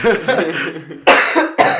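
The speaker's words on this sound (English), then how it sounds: "you can cut that out of me coughing" Several harsh coughs close up, a short burst followed by two sharper single coughs.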